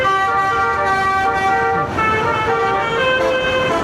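A musical car horn plays a tune on the Gapan-Olongapo Road during monsoon rains, its clear sustained harmonic notes shifting pitch over a few seconds, loud and close over faint traffic background.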